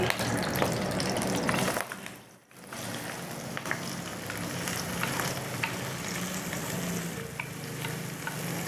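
Grated bottle gourd sizzles and crackles in a hot pan, with stirring scrapes and a brief dip in the frying noise partway through.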